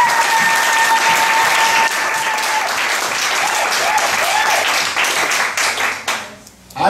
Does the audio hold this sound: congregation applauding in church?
yes